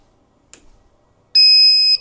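A Carvera Air CNC milling machine gives a single steady electronic beep lasting about half a second as it powers up. A faint click comes just before it, and no one talks.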